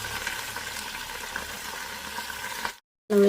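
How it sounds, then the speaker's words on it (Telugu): Fresh amaranth leaves stir-fried in a seasoning of tempered spices in an electric cooker give a steady crackling sizzle, cut by a brief silence near the end before the sound returns. "పోపులో వేసేసుకున్నాం కదా, ఈ ఆకంతా చక్కగా ఇలా కలిపేసి"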